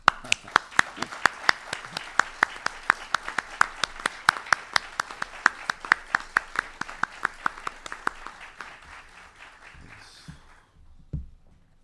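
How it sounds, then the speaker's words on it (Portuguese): An audience at an academic lecture on the poet Vinicius de Moraes breaks into steady applause, dense rhythmic clapping that holds for about eight seconds, then thins out and fades to near silence. "Palmas para o Vinícius, por favor"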